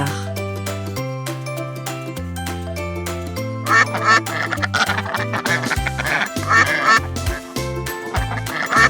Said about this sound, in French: Comment fait un canard?